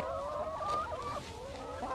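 Chickens cluck close by on a Thai home farm, several overlapping calls in a steady, busy stream with no speech.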